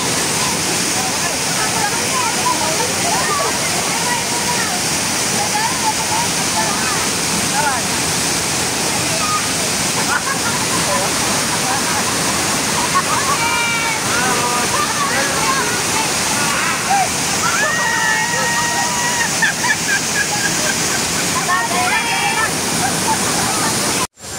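A waterfall on the Island Garden City of Samal roars with a steady, dense wash of rushing water that fills the whole stretch, while faint voices come through now and then.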